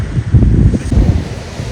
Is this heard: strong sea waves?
yes